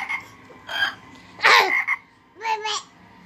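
A young child imitates a frog, repeating a playful "ribbit" croak several times in short bursts, close and fairly clear, with soft indoor background.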